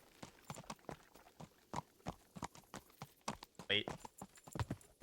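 A dappled grey horse in the medieval game Kingdom Come: Deliverance trots with steady, even clip-clop hoof strikes, with a brief whinny midway and a voice talking over the rhythm.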